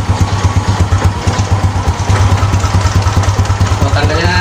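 Motorcycle engine idling steadily up close, a constant low throbbing rumble with mechanical clatter, heard during a rectifier removal test on a running bike.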